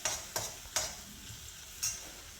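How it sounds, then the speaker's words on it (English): Tomato sauces sauté briefly in a pan for pumpkin sabji, with a soft sizzle under four sharp, spaced scrapes of a spoon stirring. "So I'm just going to go ahead and saute it just a little bit."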